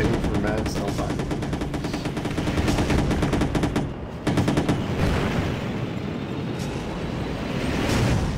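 Gunfire rattles almost nonstop against defensive turrets in the Empires video game, set on a snowstorm map: dense, loud, rapid bursts layered over one another, with a brief lull near the middle and voices talking underneath.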